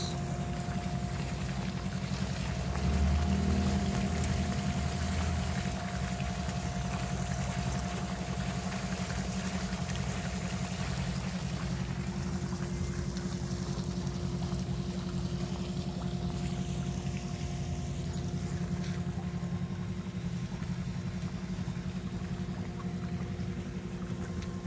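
A waterfall gives a steady, broad rushing roar that holds even throughout, with a faint hum running underneath and no talk.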